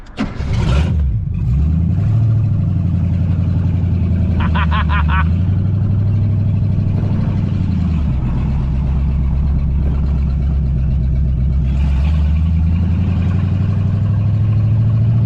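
1983 Mercury Capri RS, left abandoned for 20 years, cranking and firing up, then settling into a loud, rough idle with a few swells of revving and a brief rattle, close by and running continuously.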